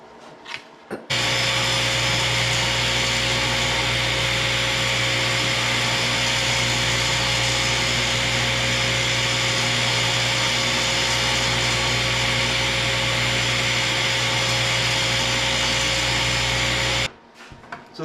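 A power saw cuts wood pieces to length for rustic vanity drawer boxes, one long loud steady whine that starts abruptly, holds for about sixteen seconds and then cuts off, with brief handling noise at each end.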